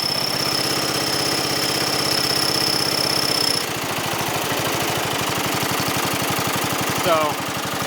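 Wizard riding lawn mower with a 12 horsepower engine running steadily after a cold start, a loud continuous rhythmic chugging that shifts slightly in tone partway through, close by with no talk.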